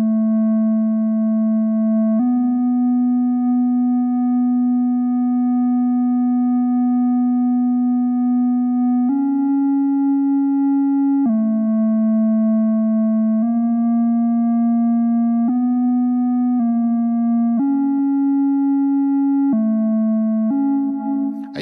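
Willow and Oak Branches semi-modular synth producing a pure, sine-like tone that steps between pitches in a cycling pattern driven by a function generator, loud and continuous with no voices.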